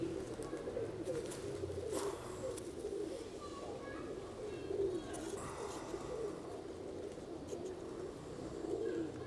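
A male Kasuri pigeon coos softly in low, repeated rolling phrases at a steady pace, faint and fairly close, while someone talks over it.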